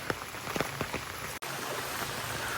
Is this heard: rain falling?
yes